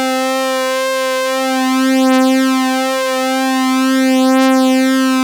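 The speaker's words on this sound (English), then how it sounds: "I'm going to detune oscillator 2 a little bit" A synthesizer strings patch holds one sustained tone with its second oscillator slightly detuned, producing a slow, even beating wobble as the two oscillators drift against each other. It is steady and loud, with no voices.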